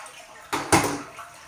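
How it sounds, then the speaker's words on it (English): A toilet is flushed to empty its tank before being replaced: a sudden watery rush starts, then a second louder surge follows, and the swirling drain fades quickly in a bathroom. "Then we're going to evacuate the water from the tank"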